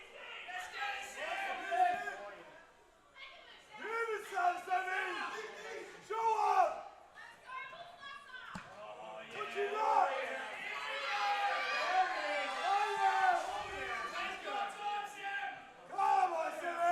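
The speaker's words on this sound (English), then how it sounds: "Crowd goes wild." Loud crowd at a powerlifting nationals meet cheering, whooping and yelling wildly after a lift, with sustained roaring in waves across the whole stretch.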